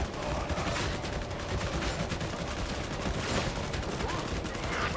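Dense, continuous gunfire from the Darktide video game, a steady wash of overlapping shots and explosions at moderate loudness across the whole stretch, with no clear pauses.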